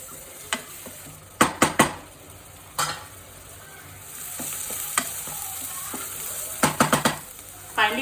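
Green chilies frying in a pan for methi paneer: a steady sizzle of hot oil runs throughout, broken by sharp clusters of spoon-on-pan scrapes and clinks as they are stirred, close and without speech.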